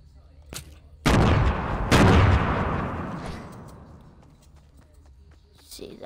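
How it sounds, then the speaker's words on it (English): A massive explosion in the Fortnite video game: a sharp crack followed by a second loud blast, then a long rumbling decay that fades over several seconds. "Give me a massive explosion point here."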